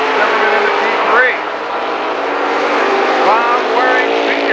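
Late model race cars at Lernerville Speedway in 1994 roar around the dirt oval in a constant loud engine drone with rising and falling whines as cars pass, heard under continuous announcer commentary.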